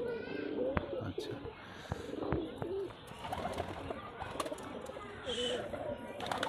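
Pigeons coo repeatedly in a pair of bald (nera) jag pigeons, a Bajir breed from Rajshahi, with soft throaty calls and occasional chirps, while someone talks over them at close range.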